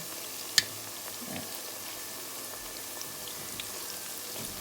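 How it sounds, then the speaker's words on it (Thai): Battered bananas deep-fry in oil over medium heat, a steady faint fizzing sizzle with a single sharp tick of spattering oil early on and a few soft pops afterward. "ก็ทอดไปเรื่อย ๆไฟกลาง ๆ นะคะ"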